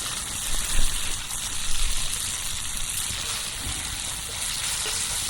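Hash browns fry loudly in olive oil and half a stick of butter in a deep cast iron skillet over a campfire, a dense, steady close-up sizzle with a brief swell of crackling early on.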